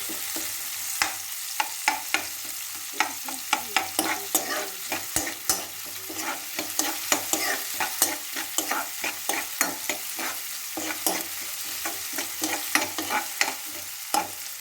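A spoon scrapes and stirs onions frying lightly in a pan for egg curry, rhythmic close strokes over a constant soft sizzle, with no voices.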